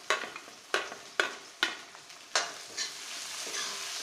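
Capsicum being stirred and fried in a pan with sprouted mung beans, with several sharp scraping stirs at a steady rhythm over a continuous close sizzle and no talking.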